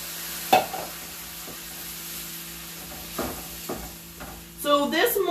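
Crushed tomatoes hitting a hot skillet for stovetop lasagna, giving a soft steady sizzle with a few stirring scrapes and clacks, then a louder burst of hissing near the end.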